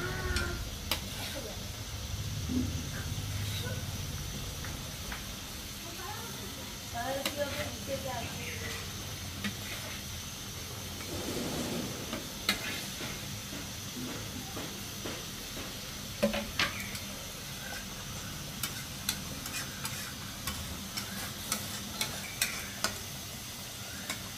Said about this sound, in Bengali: এবার আমি এতে দিয়ে দেবো ভেজে রাখা মাছগুলোকে